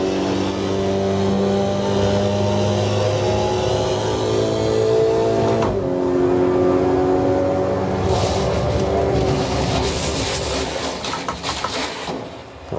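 Race car accelerating in Assetto Corsa EVO, a loud, continuous engine drone with rising tones that cuts off and resumes partway through, later becoming rougher and noisier as the car is pushed to destruction.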